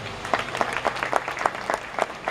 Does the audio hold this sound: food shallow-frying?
no